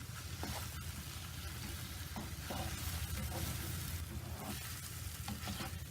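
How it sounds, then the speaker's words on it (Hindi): Chopped capsicum fries and is stirred in a pan over a low flame, giving a steady, close sizzle with soft scraping and shuffling throughout, and no voices. "शिमला मिर्च, इनको अच्छी तरह मिक्स कर लेंगे।"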